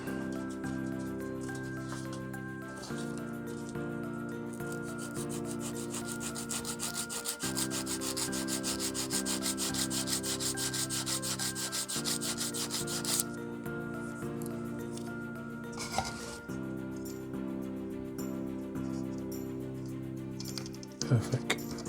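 A tool chamfers the edge of a small wooden part for a Mayflower model ship, making a close, continuous scraping and rubbing over a steady background hum, with brief talk near the end.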